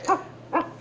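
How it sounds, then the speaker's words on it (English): A dog barks twice, about half a second apart. The barks are moderately loud and a little distant, with a low steady hum underneath. "Dog's barking."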